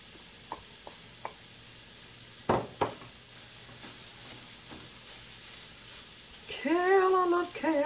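Kale dropped into a hot pan for breakfast cooking, with a few soft knocks and stirring clatters before a sharp bright sizzle swells up near the end.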